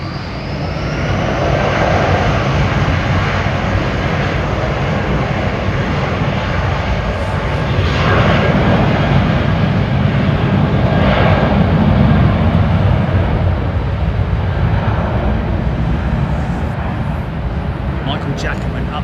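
Boeing 787 long-haul jet at London Heathrow, a continuous engine roar swelling and easing at moderate distance, with wind-like hiss over it and a voice talking over the noise.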